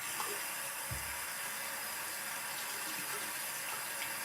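Steady hiss of running water splashing as a lavender, honey and tea tree face mask is rinsed off, close and continuous with a brief low thump near the start.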